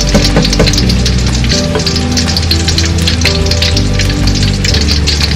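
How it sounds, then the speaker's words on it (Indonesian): Corn fritters (perkedel jagung) fry in hot oil, giving a loud, continuous close-up sizzle with crackling pops throughout and no talk. "Ini saya mau goreng perkedel jagung dulu."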